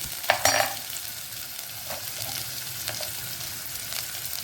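Onion with curry leaves and turmeric sautéed in oil for a ridge gourd dish, a continuous close sizzle broken by a few scraping stirs near the start, with no talking.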